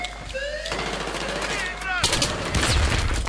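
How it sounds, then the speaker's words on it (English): An enemy grenade blast in Battlefield 3 lands amid a burst of loud, close gunfire and layered battle noise, with the heaviest impact near the end of the clip. "That was in fact an enemy grenade that I decided to run directly onto."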